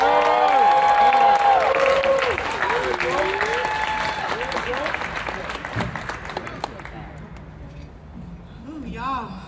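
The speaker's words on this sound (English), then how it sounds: "Round of applause for my lady" A crowd at a pre-fight boxing press conference in Detroit breaks into loud, sustained clapping and cheering, with amplified voices carrying over it before the applause gradually thins out toward the end.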